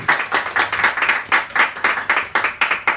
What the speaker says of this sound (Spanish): Y un aplauso también